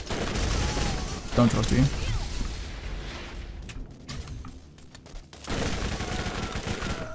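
SMG gunfire in the video game Borderlands comes as rapid bursts of shots under loud game noise and someone talking. A brief quieter stretch follows, then the fire and noise resume.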